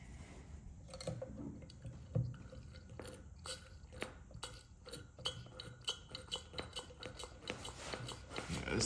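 Fluid drains out of a carburetor float bowl in faint, irregular drips and small splashes, each landing as a soft, quiet tap against near silence.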